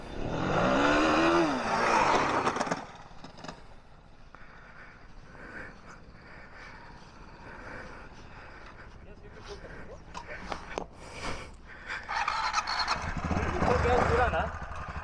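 Enduro dirt bike in first gear on a trail, its engine revving loudly at the start and again at the end, with a lower idle between and people talking over it.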